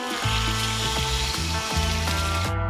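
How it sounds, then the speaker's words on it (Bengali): Hot water poured into a pan of sizzling mutton and potatoes, with a loud, steady hiss and crackle of frying running throughout and a few harsher bursts as the liquid meets the hot oil, no talking. "এই গরম জলটা এবার দিয়ে দেবো"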